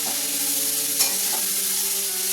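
Vegetarian chow mein noodles stirred in a hot pan give a steady, close sizzle with a faint tonal hum underneath and one soft scrape of the utensil, no voices.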